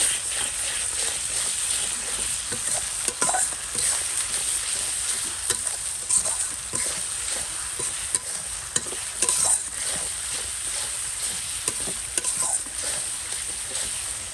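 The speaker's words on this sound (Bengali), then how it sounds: "আটা রসুন ব্লেন্ড দিয়ে দিলাম আর একটু লাগবে একটু ভেজে নেবো" Ginger-garlic paste frying and sizzling in a pan while a spoon stirs it in steady scraping strokes, a continuous bright hiss with repeated clinks, close and fairly loud, with no talking.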